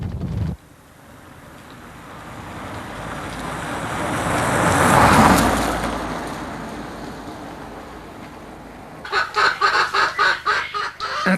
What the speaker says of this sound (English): specially bred broody hens act as natural incubators